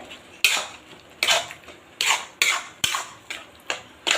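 A utensil scrapes and knocks against a pan while bottle gourd halwa with milk powder is stirred, in regular strokes roughly every half second, close up with no speaking.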